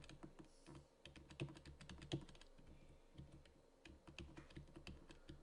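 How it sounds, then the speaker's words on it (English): Arrow keys on a computer keyboard are tapped repeatedly while moving around a house plan in Home Designer Pro 2018, giving quiet, uneven clicks in quick succession with no voices. "let's use the arrow keys and move around a little bit."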